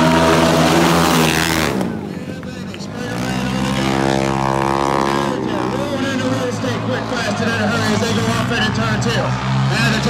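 Harley-Davidson flat track motorcycles race at the Hastings half-mile dirt oval, engines roaring loudly and rising in pitch as they pass close by, while an announcer talks over the racket.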